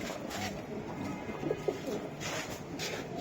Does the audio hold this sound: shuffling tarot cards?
no